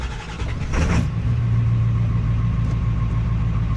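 A 7.3 diesel engine idles steadily and smoothly after a serpentine belt, tensioner and idler pulley replacement, a loud close drone with a brief rise near the start and no belt squeal.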